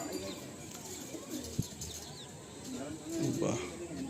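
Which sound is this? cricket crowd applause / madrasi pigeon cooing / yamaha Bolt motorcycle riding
madrasi pigeon cooing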